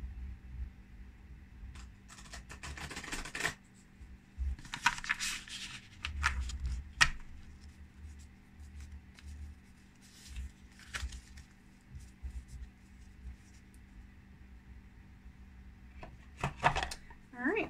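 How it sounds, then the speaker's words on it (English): Tarot cards being shuffled by hand in short bursts of riffling and sliding, close to the microphone, with a low steady hum underneath. "Let me do a quick little shuffle for you."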